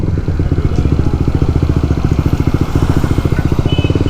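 A Honda CBR 150R with an R9 Zeta-R exhaust runs steadily nearby, giving a continuous, evenly pulsing deep engine drone as the bike pulls away.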